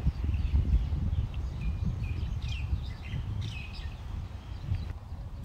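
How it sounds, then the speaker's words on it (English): Birds chirping and calling in a park on a nice day, short bright tweets scattered over a rumbling background of wind or footsteps while walking. "Y'all hear the birds?"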